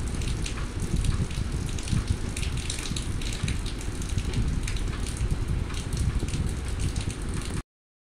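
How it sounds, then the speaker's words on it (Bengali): An egg fries in oil in a pan over a low flame, a steady crackling sizzle with bursts of popping that continue throughout before stopping suddenly. "ভেজে নিচ্ছি ডিমটাকে।"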